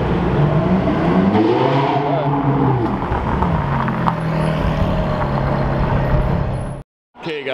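A 1,000 horsepower Sheepy Race twin-turbo V10 car runs loud and close, its engine tone rising and falling through revs over a continuous roar before cutting off briefly near the end.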